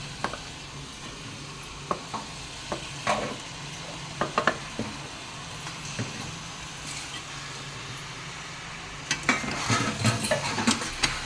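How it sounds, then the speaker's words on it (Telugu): A kilo of chicken stirred into heated masala in a pot for chicken curry: a low continuous sizzle with scattered scraping and clanking stir strokes, nearby, no talking. "మసాలా ముక్కకు బాగా పట్టేలా కలుపుతున్నాడు"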